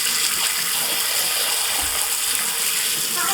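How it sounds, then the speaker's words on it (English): Water sprays steadily onto a rechargeable LED work light, giving a continuous, loud hissing gush with no pauses throughout. "Let's just see if the water gets inside the buttons while you push them."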